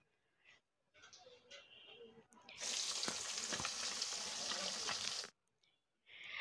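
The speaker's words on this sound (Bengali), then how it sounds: "এখানে কই মাছ ভাজি করছে" Koi fish (climbing perch) frying on a home stove in a village kitchen: a loud hissing sizzle swells for a couple of seconds between quieter stirring and scraping sounds, with a voice talking nearby.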